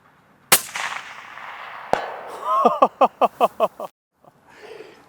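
A quick burst of about seven rapid full-auto rifle shots through a Banish 30 suppressor, evenly spaced and close, follows a couple of isolated pops and trails into quiet.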